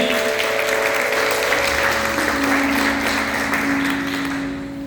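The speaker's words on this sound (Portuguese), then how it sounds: "Você pode aplaudir o Senhor mais uma vez nessa noite, amém?" A church congregation applauds during an evening service, with a dense, sustained wash of clapping from many hands that fades slightly toward the end.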